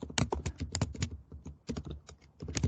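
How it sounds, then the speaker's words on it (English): Rapid typing on a computer keyboard during a live mathematics lecture demo, close and crisp keystrokes clattering in quick irregular bursts with brief pauses, no talking. "that's the danger of live demos. Typing too fast."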